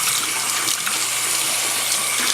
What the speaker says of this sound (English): Rinse the Nitrosorb.